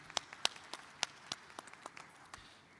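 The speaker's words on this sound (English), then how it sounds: "a big warm hand of applause for all the people that made this happen" A handful of scattered, faint handclaps rise from a forum audience, irregular and sparse rather than a full ovation.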